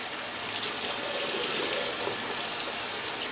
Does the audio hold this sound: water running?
yes